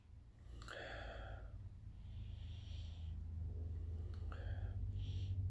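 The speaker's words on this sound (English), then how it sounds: "Have a bit of a sniff." A few quick nasal sniffs at a glass of hazy IPA beer, close to the microphone, separated by soft breathy pauses over a low background hum.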